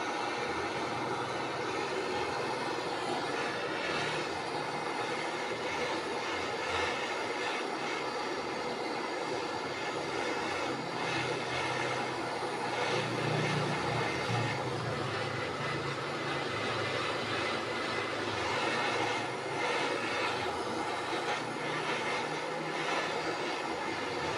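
A Yamaha F1ZR motorcycle with a carburetor air-filter problem idles steadily while warming up, giving a continuous, even engine drone at moderate volume with no talking over it.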